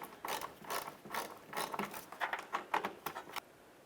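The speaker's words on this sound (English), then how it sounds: "Go ahead and put in your mounting screw." A hand ratchet drives a mounting screw into the plastic grille of a 2012-2017 Toyota Camry, giving a close run of rapid clicking bursts in an uneven rhythm that stops near the end, with no talking.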